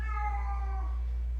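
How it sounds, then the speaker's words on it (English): A single cat's meow at a cat shelter, clear and close over a low steady hum. "I know you hate hearing all those cats, don't you?"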